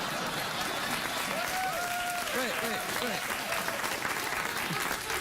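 A late-night talk show studio audience claps and cheers in a dense, sustained burst while a voice speaks briefly over it.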